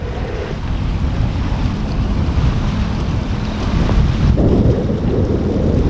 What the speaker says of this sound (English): Nice little breeze.